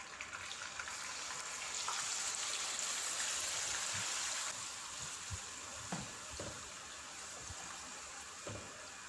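Marinated mutton with spices drops into a hot pot for korma: a loud, close sizzle that hisses strongly at first, then settles into quieter frying with a few soft clinks and scrapes.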